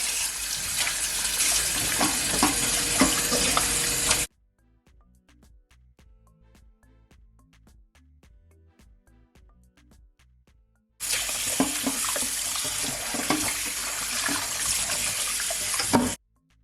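Cold tap water runs and splashes into a sink while oxtail is washed, for a few seconds, stops for a quiet stretch with light clinks, then gushes again.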